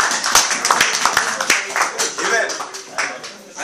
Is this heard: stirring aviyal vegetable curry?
no